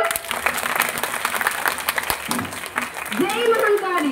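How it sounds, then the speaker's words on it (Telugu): An audience applauds after a children's skit about the Bonalu festival and Pothuraju, with a burst of clapping under a voice speaking over it. "మరి ఇంకేంటి, గట్టిగా చప్పట్లు కొట్టారు"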